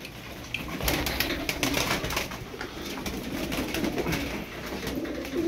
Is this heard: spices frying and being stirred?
no